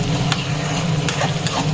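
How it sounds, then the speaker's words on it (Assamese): Chopped garlic frying in oil in a pan, cooked for an Assamese-style small fish dish, giving a steady close sizzle with a few short stirring scrapes. "এইখিনি অকণমান সময় ভাজি লম যাতে।"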